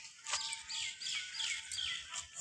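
A small bird chirps outdoors in a handful of quick, bright tweets spaced across a couple of seconds, fairly faint against quiet background noise.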